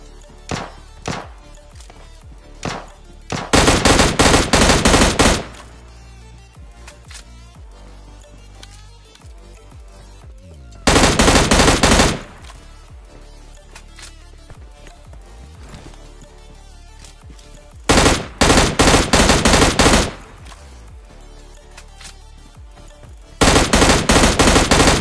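Automatic gunfire in the mobile battle royale game PUBG Lite, loud rapid bursts lasting a second or two each, recurring about five times between quieter stretches of game ambience.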